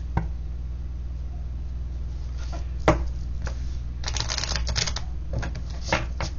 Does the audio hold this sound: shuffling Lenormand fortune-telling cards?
yes